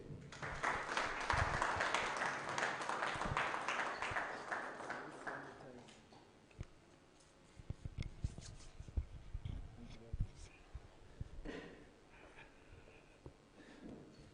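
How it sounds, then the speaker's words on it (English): A gala dinner audience applauds the provincial chair with a full burst of clapping that swells for several seconds, then thins into scattered, isolated claps and small knocks in the room. "Can we please give a huge round of applause for the provincial chair, Mr. Mpho Mutse."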